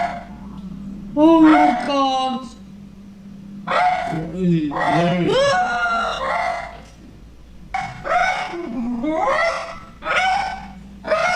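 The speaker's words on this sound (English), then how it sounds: "Can I just get rid of this dog sound" Several dogs bark and howl in drawn-out, rising and falling bursts, loud and repeated, mixed with someone talking.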